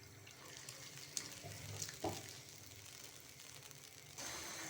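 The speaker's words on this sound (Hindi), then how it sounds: "अच्छी तरह से मिक्स करेंगे और अब हम इसमें फ्राई किया हुआ चिकन डाल देंगे।" Fried chicken pieces go into Manchurian sauce in a pan, giving a soft, close sizzle with faint stirring scrapes and a few light clinks.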